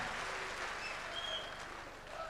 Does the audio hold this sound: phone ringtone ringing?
no